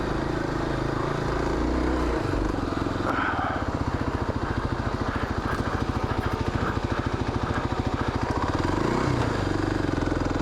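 A Kawasaki KLX 250 dirt bike is ridden along a single-track trail. The close engine gives a continuous rapid thumping drone that rises and falls as the throttle changes, with wind rush over it.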